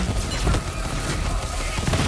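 A powerful gun in a fast-clicking shooter game fires a quick run of loud, close shots in an irregular burst, heavy bass thumps dominating the short stretch.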